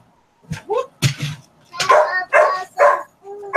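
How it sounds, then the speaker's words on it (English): A dog barks, muffled as if behind a shut door, letting out a string of uneven barks and yips in short bursts, moderately loud and fairly near. "I apologize for now the muffled dog barking."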